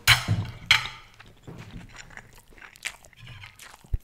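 Close, loud crunchy bites open the clip, followed by quieter wet chewing and an occasional sharp crunch as a person eats snack food at a mukbang.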